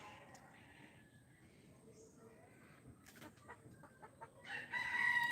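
Chickens cluck and a rooster crows on a village homestead during flooding, with some birds perched up high; the calls are faint and distant at first, then grow louder and closer toward the end.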